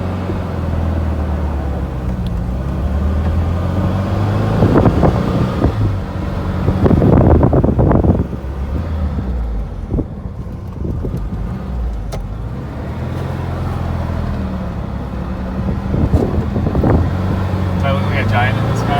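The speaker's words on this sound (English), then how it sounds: "here we go, taking the Beetle for a spin." A 1961 Volkswagen Beetle on the road, its low engine drone steady from inside the car, with wind buffeting the microphone and swelling in louder gusts while a person talks over it.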